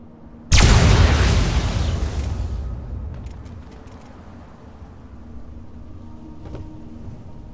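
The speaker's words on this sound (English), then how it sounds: "Oh, my head's still ringing from that explosion." A massive explosion levels the town of Megaton in the video game Fallout 3, a sudden loud blast followed by a long rumbling roar that fades over several seconds, with faint debris ticks afterward.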